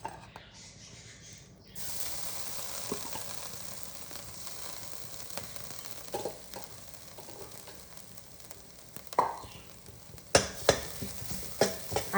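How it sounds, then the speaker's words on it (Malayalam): Grated coconut roasting in about two spoons of oil, with a soft sizzle and irregular scraping and rattling as it is stirred. Sharper clacks grow more frequent toward the end. "അരമുറി തേങ്ങയുടെ പകുതി ഒന്ന് വറുത്ത് പോരാം."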